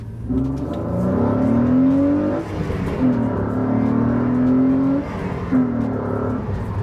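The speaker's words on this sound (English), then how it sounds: "the one thing that is really good about this car, the noise." A Renault Clio fitted with a carbon airbox revs hard on a country road, its engine note climbing loud and close through gear changes with brief dips between pulls.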